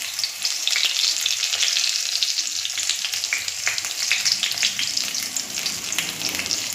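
Pointed gourd frying in ghee and oil with poppy seed paste, a steady close crackling sizzle with frequent small pops and occasional stirring, no voices.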